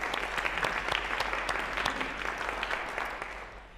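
Steady, full audience applause from a gathering, dense and sustained at moderate loudness, tapering slightly at the end.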